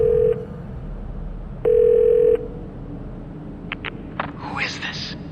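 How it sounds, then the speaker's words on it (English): A phone number is dialed in The Darkness video game: two long steady keypad tones ring out separately, followed by a quick run of shorter beeps and a faint voice-like warble at the end. "So what would happen if we dialed that up?"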